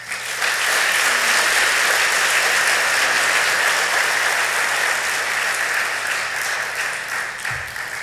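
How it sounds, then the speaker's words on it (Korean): A church congregation at a Sunday worship service claps in welcome for a guest speaker, sustained dense applause from many hands at a steady loud level that fades slightly near the end. "오늘 단위에 올라오셔서 말씀 전하실 때에 큰 박수로 맞아주시기를 바랍니다."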